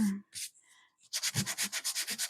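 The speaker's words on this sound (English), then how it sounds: "I'm going to grab my sanding paper" Close sandpaper scrubbing in a quick, steady rhythm of about a dozen back-and-forth strokes, after a few brief rustles and a short pause.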